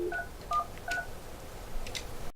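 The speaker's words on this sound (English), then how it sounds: "enter the extension of the second person you'd like to have in the conference" A Polycom office phone keypad dials an extension with a quick run of DTMF tones. Four or five short, clear beeps sound at a moderate level over faint room hiss.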